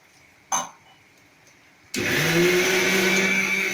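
A mixer grinder starts up abruptly after a short knock and runs loud and steady, whirring with a high motor whine as it grinds a paste with added water.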